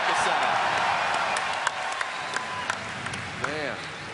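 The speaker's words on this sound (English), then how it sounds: "I'm going to want to hear the crowd yell about this." Crowd of spectators at a live World of Warcraft raid event applauding and cheering a boss kill, a steady wash of clapping and voices with a few sharp accents, mixed under a commentator talking.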